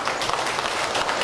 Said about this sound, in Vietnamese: Xin một tràng pháo tay chào đón anh Thức ạ.